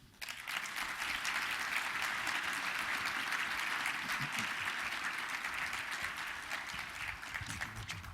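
A conference audience at the 2019 Georgia Manufacturing Summit applauds to welcome a Procter & Gamble speaker to the podium, with steady, full clapping that holds for about eight seconds.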